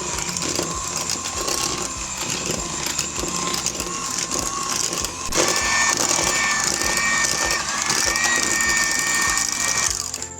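Crushed Oreo biscuits being worked into beaten cream for homemade Oreo ice cream, with a steady, busy mechanical whirring and rattling that grows slightly louder halfway through.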